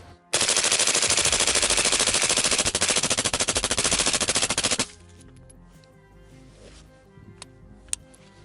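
A rifle fitted with a Rex Silentium suppressor fires 55 grain Winchester rounds in a long, rapid, uninterrupted string of sharp muffled cracks for about four and a half seconds, then stops abruptly, leaving faint clicks and quiet afterward.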